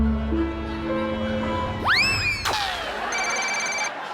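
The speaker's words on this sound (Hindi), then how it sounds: "तुम्हारी मम्मी का फोन है।" A phone rings once in a domestic drama scene, its electronic tone rising in bright sweeps and then holding a steady chirping trill, close and clear over a quiet room hum.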